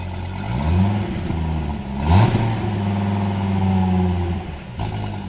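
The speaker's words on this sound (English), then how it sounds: "You gotta love that cackle of that V10." A Dodge Viper ACR's V10 idles with a deep, burbling note close by, then blips sharply in a quick rev before settling back to a loping, crackling idle.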